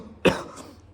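A single sharp cough from a person with a cold, close to the microphone, one short burst followed by quiet room tone.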